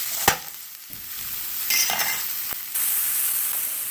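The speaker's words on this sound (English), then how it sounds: "fry a little. So give that a couple minutes on a medium flame" Red onions fry over a medium flame in a pan, hissing with a close, steady sizzle. A few sharp taps and scrapes from a utensil break up the onions.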